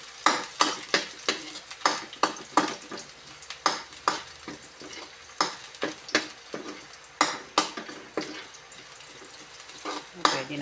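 Onion and garlic frying in a pan for a Filipino taro-and-shrimp vegetable dish, stirred with a utensil: a constant sizzle broken by regular, sharp scraping clacks against the pan, close and fairly loud, with no talk.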